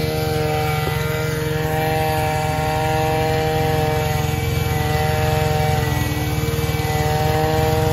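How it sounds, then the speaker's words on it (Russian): A steady, humming engine drone with a low rumble runs continuously and loudly, like a lawn mower cutting grass nearby, with no talking. "ждем, пока порежет траву"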